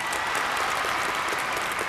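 Steady applause from a television game show studio audience, dense, even clapping that fills the whole moment without pause.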